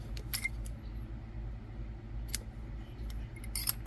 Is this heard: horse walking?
no